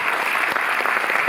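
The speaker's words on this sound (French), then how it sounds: "je pense que vous pouvez l'applaudir" Dense applause from a cinema audience at a film retrospective opening, a brief, even burst of many hands clapping.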